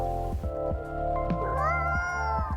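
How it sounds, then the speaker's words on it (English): A cat meows in a cozy café game scene, a short call heard over soft background music with plucked notes and a steady tone. "You want something too, kitty?"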